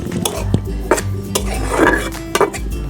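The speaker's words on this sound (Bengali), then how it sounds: "এবার কয়েক সেকেন্ডের জন্য এই কড়াইটি উনুনে বসিয়ে দেব।" A wok set onto a stove in a village kitchen while making paneer makhni, with sharp metal clanks and clattering pots at irregular moments, close and loud, with no talk.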